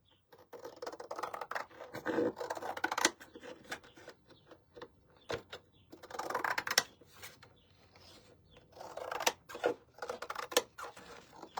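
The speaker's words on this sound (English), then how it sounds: "All right, so we're gonna cut this down." Scissors snipping through a paint stencil in bursts of crisp cutting with brief clicks and pauses in between, close by and fairly quiet, with no talking.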